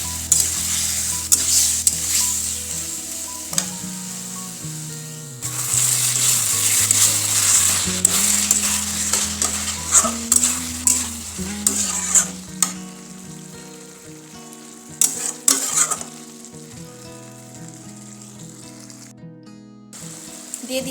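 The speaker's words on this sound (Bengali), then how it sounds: "চিকেন ভালো করে কষিয়ে নিচ্ছি" Chicken pieces with spices being fried and stirred in a pan, steady loud sizzling with repeated scraping stir strokes throughout, plus low tonal background music.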